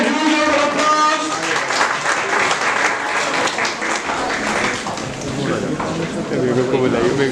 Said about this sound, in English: Once again, a huge round of applause.